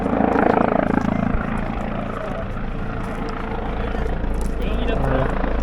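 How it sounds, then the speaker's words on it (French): A helicopter lands on a small rooftop with a loud, steady rotor thrum and engine roar that fill the scene. Voices talk over the noise. "donc un hélicoptère qui va atterrir"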